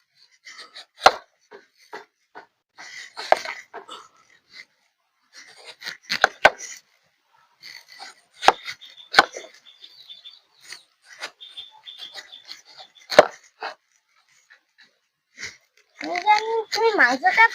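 A knife chops through a red watermelon on a board, giving a series of irregular sharp thunks and crunchy cuts, with talking in between.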